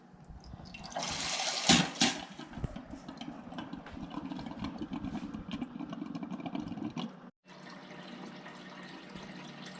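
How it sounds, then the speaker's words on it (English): Water runs steadily from the dispenser of a GE Cafe refrigerator to purge a newly installed RPWFE filter, a continuous close hissing stream with a brief louder splash early and a short break near the end. "as soon as you put your new filter in the refrigerator, you need to run water, actually about 2 gallons"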